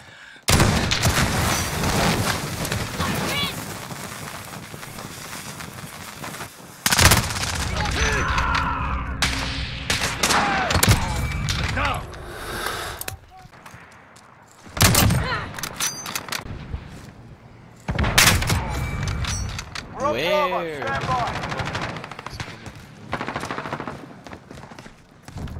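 Video game combat with heavy bursts of automatic gunfire and loud impacts, arriving in several separate waves with quieter gaps between them and scattered mechanical clicks.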